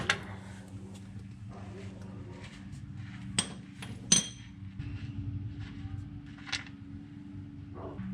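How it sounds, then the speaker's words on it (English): A wrench cracks loose the differential nut on a Toyota Hilux, giving a couple of sharp metallic clinks over a low, steady background hum. "So first things first, crack this nut off."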